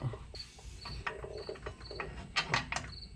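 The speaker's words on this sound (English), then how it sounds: "What I'm going to do is just screw the bolts back in the back here a little bit." Rear disc brake caliper bolts being screwed in by hand, giving soft, close metallic clicks and brief scraping ticks in an irregular pattern, with a faint high chirping in the background.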